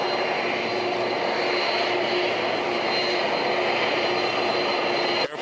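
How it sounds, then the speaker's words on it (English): Steady, loud roar of Air Force One's jet engines running nearby, a continuous broadband drone with a high whine on top, holding level throughout. "And there you can hear, again, the sound of the engines."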